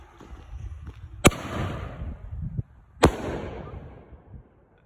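A golden canister shell firework on a cold night goes off with two sharp, loud bangs about two seconds apart, each trailing into a fading crackle and rumble, with quiet outdoor ambience between.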